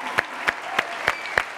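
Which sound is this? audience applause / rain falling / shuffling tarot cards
audience applause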